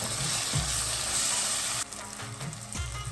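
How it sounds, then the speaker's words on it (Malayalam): Chili powder and fenugreek powder stirred in a frying pan: a constant hissing fry with a few dull low knocks from the spoon, dropping slightly quieter partway through. "ഇനി ഒന്ന് ഇളക്കി"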